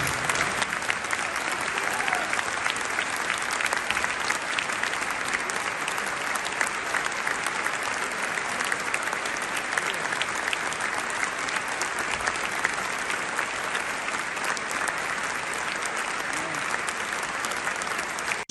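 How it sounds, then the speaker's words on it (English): A large stadium crowd applauds in tribute to footballer Christian Atsu, a loud, sustained wall of clapping and crowd noise that holds steady throughout. "with a moment of applause"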